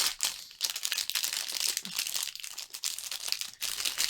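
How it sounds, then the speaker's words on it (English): Packaging crinkles close up while a Sketchbox art supply subscription box is unboxed, in irregular bursts of papery crackling and rustling with brief quiet gaps between them. "that's going to be way too much crinkling for my own ears if I was listening to this video"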